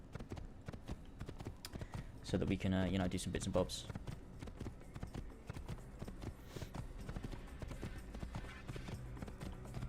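Horse hooves clip-clopping in Assassin's Creed: a fast, steady stream of hoofbeats runs throughout at moderate volume, with a brief snort or whinny early on, while someone talks over the gameplay.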